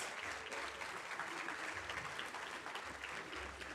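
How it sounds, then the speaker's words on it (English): An audience at an alumni panel applauds steadily for nearly four seconds, a dense, even wash of many hands clapping with no break. "give them a round of applause"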